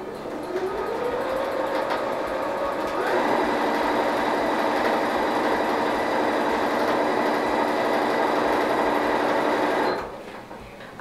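Sewing machine stitching along the edge of a fabric gift bag, a steady fast whirring run that rises in speed at the start, holds for several seconds close up, then stops abruptly.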